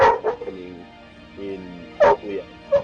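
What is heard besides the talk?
puppy barking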